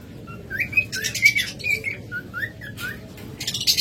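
Pet lovebirds, cockatiels and budgerigars in a cage with a nest box chirp and whistle in quick, repeated bright calls, with scattered squawks over a low, steady background rumble.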